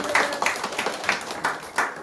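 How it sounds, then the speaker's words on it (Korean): Congregation in a church applauding during a Sunday morning service, a loose irregular patter of hand claps with several louder bursts over about two seconds, moderately distant in a reverberant room. "서장로님 위해서 박수 한번 치시죠"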